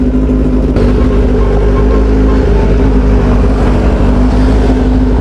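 A motorcycle engine idles steadily after a cold start, unrevved, with a loud, constant low rumble and a close, even drone throughout.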